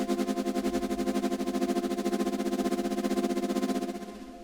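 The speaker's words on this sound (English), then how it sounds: "And again the Prophet doing some LFO modulation on the envelope." A Prophet synthesizer with LFO modulation on its envelope pulses in fast, even rhythmic throbs, a bright buzzy tone that repeats steadily and then fades out at the end, with no voices.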